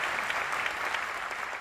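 A brief burst of applause from a small group of people, dense and fairly close, lasting under two seconds with no talk over it.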